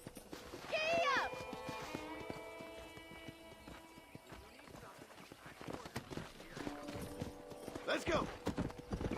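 Hooves clip-clop under a rider in Red Dead Redemption, a steady trotting patter beneath music and background noise, with a short spoken line and a horse's whinny near the start.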